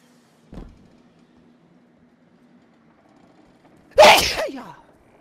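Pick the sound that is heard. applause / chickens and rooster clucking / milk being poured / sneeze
sneeze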